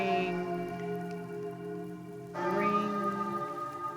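A large bell struck in the One Eyed Likho video game rings out once with a sudden bright, resonant strike, its tone swelling and ringing on over a steady droning background, with no talk.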